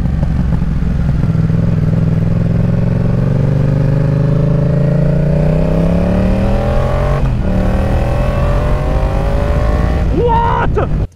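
A Yamaha Tracer 700 motorcycle pulled hard at full throttle, its loud engine climbing steadily through the revs in one long sustained run, then a brief shift and more revving near the end before it cuts off.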